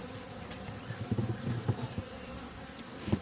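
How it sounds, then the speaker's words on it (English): Honeybees in an opened hive box drone with a steady, close buzz throughout, agitated insects humming around with a few brief knocks and bumps from handling. "Once again, unhappy bees."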